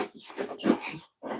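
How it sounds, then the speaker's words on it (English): A dog gives a few short whimpering, yipping vocalizations indoors, close and fairly soft, with a brief pause before a final whine. "A dog."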